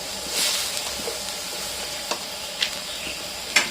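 Curry chili paste fries with coconut milk until fragrant, a moderate, steady sizzle with a few sharp utensil taps spaced out over the last seconds.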